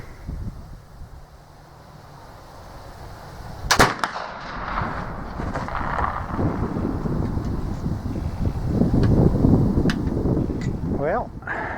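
A single sharp shot from a Euroarms Kentucky flintlock rifle cracks out loudly outdoors, followed by a lingering rumble over steady wind noise on the microphone.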